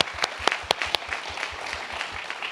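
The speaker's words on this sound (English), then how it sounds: "round of applause for that" Audience applause at a panel event on green infrastructure and cities, a steady patter of many hands clapping with a few sharper claps standing out near the start, moderately loud and fading slightly toward the end.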